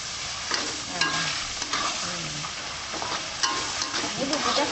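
Ground spice paste frying and being stirred in hot oil for a spicy young papaya sambal: a steady close sizzle broken by repeated scraping stirs, with no voices.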